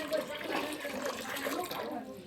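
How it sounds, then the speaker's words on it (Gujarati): Water pours and splashes in a short, steady gush, close and fairly loud, with a voice faintly in the background. "હવે હાલો આપણે પાણી નાખી દઈએ"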